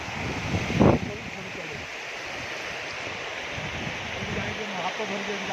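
Floodwater pours across a submerged village road, a steady rushing, gurgling flow that continues throughout, with a brief louder splash or shout near the start and voices faintly in the background.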